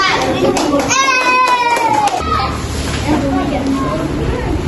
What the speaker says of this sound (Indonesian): Beri tepuk tangan kepada kelompok 4.